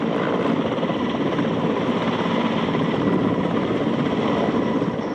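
Mi-17 military helicopter armed with rocket pods, flying: a loud, steady, broad rotor-and-engine roar with a dense rapid thrum and no talking, unchanging throughout.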